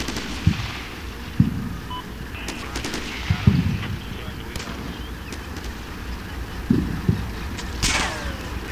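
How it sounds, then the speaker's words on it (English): Sporadic gunfire from the Combat Mission: Shock Force war game, with single shots and short machine-gun bursts cracking at mid distance, plus a sharper, closer shot near the end, over a low battlefield rumble. "Then I realized that the fire is actually coming from 2 ridges to the front."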